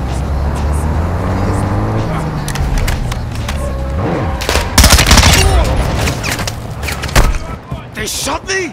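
Gunfire in the Call of Duty video game crackles in dense bursts and sharp reports over rumbling engine noise and low droning music, building to a heavy cluster of shots midway. A voice speaks over parts of it.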